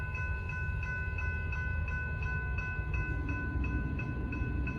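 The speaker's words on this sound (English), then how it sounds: "281 southbound. This will be the last train of the day." A Norfolk Southern freight train, number 281 heading southbound, rolls past close by with a constant heavy rumble and a rhythmic series of bright squealing tones from the wheels and cars, no voices heard.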